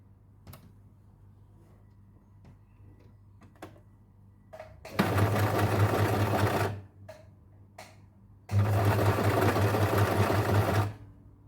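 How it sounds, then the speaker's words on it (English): A sewing machine stitches a seam through fabric for a long frock, with two loud sustained runs of rapid mechanical chatter separated by quieter clicks and handling noises. "Now I am starting stitching through this line."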